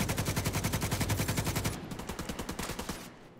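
Automatic gunfire in The Division 2 video game: rapid, evenly spaced shots ring out loud and close in a sustained burst, then continue more thinly before tapering off at the end.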